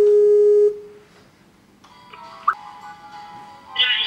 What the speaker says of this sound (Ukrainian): Я почав телефонувати дітям.